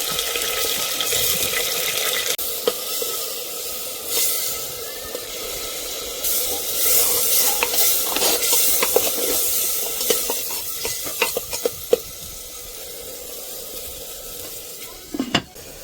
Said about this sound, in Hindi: कटहल भून लो